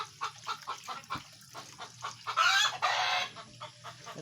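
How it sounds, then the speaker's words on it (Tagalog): A backyard chicken clucks in a series of short, repeated calls close by, with a louder burst of squawking partway through over a steady low hum. "Saka ito po yung manok ko guys, nangingitlog po sa taas"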